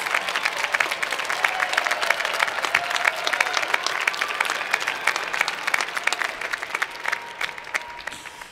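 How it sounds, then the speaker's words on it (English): Graduates at a winter commencement ceremony give themselves a big round of applause, a loud, sustained wash of clapping from a large crowd that holds steady throughout with faint cheering mixed in. "give yourselves a big round of applause"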